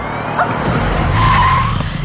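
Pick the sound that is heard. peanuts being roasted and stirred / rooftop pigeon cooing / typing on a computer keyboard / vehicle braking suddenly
vehicle braking suddenly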